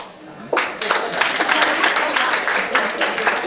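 A comedy club crowd bursts into loud applause that continues steadily, dense clapping from many hands filling the room.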